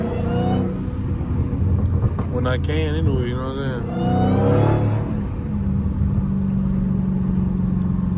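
A Hellcat car on a drag pack drones steadily from inside the cabin, the engine rising in a couple of brief surges, while someone talks over it for most of the stretch.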